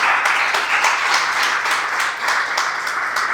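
A church congregation claps together in a steady, rhythmic applause, loud and sustained, with regular beats throughout.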